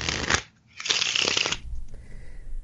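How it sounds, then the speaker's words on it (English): A pack of playing cards is riffled in a perfect in shuffle, with two crisp, fluttering bursts of card riffling close up, a short pause between them, and a soft settling of the deck. "you get the other type of perfect shuffle, which is called an in shuffle"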